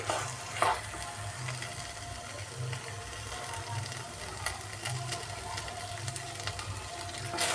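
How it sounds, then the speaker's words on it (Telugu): Sweet rice cooks down in a pot on the stove until thick, giving a soft continuous bubbling sizzle with occasional stirring scrapes, close and steady. "మధ్య మధ్యలో వాటర్ ఉన్నాయి కదా బాగా దగ్గర పడే వరకు బాగా ఉడికించుకుందామండి"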